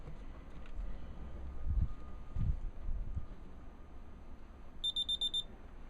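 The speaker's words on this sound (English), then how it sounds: "that beep means that it's calibrated itself to that level surface" Quiet handling thumps and rustles as a digital spirit level is set on a flat surface, then a quick series of about five high-pitched electronic beeps as it calibrates, close and clear.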